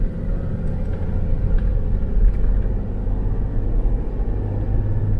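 A Toyota Land Cruiser VX-R 80 cruises on a highway, its steady low rumble of engine and road noise droning continuously from inside the cabin, with no voices.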